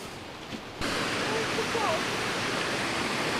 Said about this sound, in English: So here we are, the beautiful Nant Mill Waterfall.